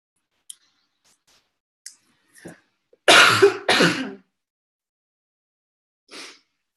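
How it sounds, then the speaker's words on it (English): A person nearby with a flu cough gives two harsh coughs in quick succession after a few small clicks and breaths. The surroundings are otherwise quiet. "Now I've got a cough, so just hang on one sec"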